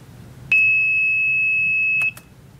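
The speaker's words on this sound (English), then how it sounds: "So the buzzer goes off and the LED is on when the tea is at the proper temperature" A Logger Pro–controlled tea maker's buzzer sounds one loud, steady electronic tone lasting about one and a half seconds, then cuts off abruptly, followed by a couple of faint clicks.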